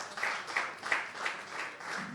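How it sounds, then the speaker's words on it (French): A crowd at an afterwork event applauds Jean-Louis Azé, a faint, distant patter of clapping with a few sharper claps standing out, steady for about two seconds. "que je vous prie d'applaudir très fort"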